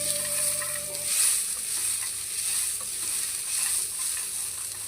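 Flattened rice for chira pulao fries in a pan with a steady close sizzle, while a spoon stirs it with soft scraping. No talking.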